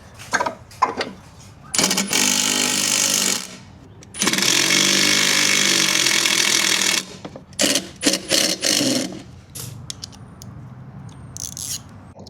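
An impact driver drives bolts while mounting a wall-mounted pressure washer, giving loud bursts of rapid hammering of a second or three, separated by short pauses and handling clatter.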